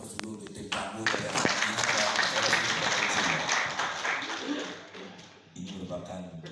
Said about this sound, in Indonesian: rekan-rekan kita beri aplaus dulu untuk tim tamu dari